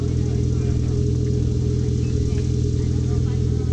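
A steady, deep car exhaust drones continuously at close range, holding a constant low rumble throughout.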